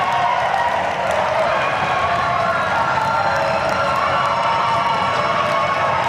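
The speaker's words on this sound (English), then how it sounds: "And here is the crowd." A dense, steady crowd roar with cheering and scattered clapping rises from spectators at an outdoor ultimate frisbee event in Colorado, loud and unbroken for the whole stretch.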